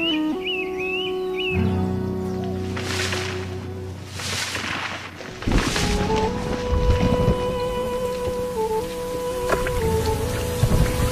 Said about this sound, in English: From mid-June to the end of September, storms deluge the land.